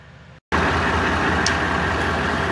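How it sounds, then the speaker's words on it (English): A Toyota Tundra pickup idling while warming up for a transmission drain and fill, heard from underneath as a steady, fairly loud engine rumble that starts abruptly after a short quieter moment. "Sorry for the noise, because you have to do this with the vehicle running."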